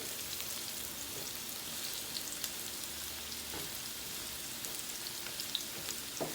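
Bitter gourd (karela) fries with chicken in a pan with a continuous, even sizzle and crackle, moderately close, with occasional soft stirring sounds and no talking.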